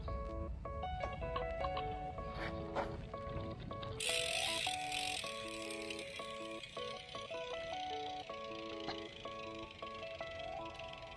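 A Pacific PIP 2588 folding bicycle rear hub ticks rapidly and evenly as the wheel freewheels, a continuous metallic clicking that brightens with a hiss partway through.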